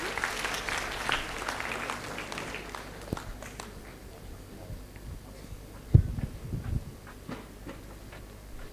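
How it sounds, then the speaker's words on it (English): An audience applauds the panelists at an engineering education event, a brief burst of clapping that fades within a few seconds, followed by quieter scattered sounds, a few thumps and light handling noise. "With a big round of applause, everybody."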